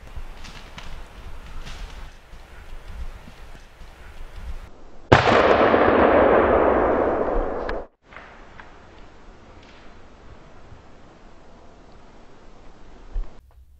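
A hunter's shotgun blast aimed at a wild turkey gobbler during a spring turkey hunt: one sudden loud report whose roar lingers about three seconds before cutting off, with quiet outdoor ambience on either side.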